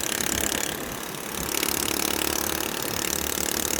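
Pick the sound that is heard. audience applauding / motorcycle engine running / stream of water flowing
motorcycle engine running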